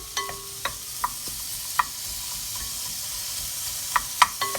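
Onions cook gently in a pan for tomato soup under a soft, even sizzle. A few sharp taps and spoon knocks sound at scattered moments, quiet and close, with no voice.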